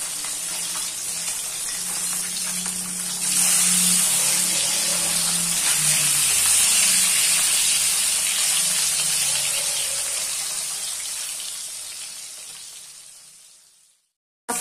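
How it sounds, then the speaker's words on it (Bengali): Fish frying in hot oil in a home kitchen, a loud, continuous close sizzle that swells after a few seconds, holds steady, then fades away before cutting off. "তেল গরম হয়ে গিয়েছে, মাছগুলোকে দিয়ে দেবো। দুই দিকে ভালো করে ভেজে নেব।"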